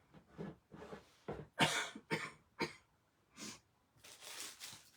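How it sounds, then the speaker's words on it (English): A person coughing repeatedly up close, a series of short harsh bursts in uneven clusters with brief pauses and throat-clearing between them. "I have this cough"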